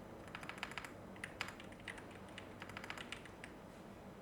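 Quiet, quick clicking of a computer keyboard being typed on at a PC, irregular bursts of key taps heard alone, faint and close.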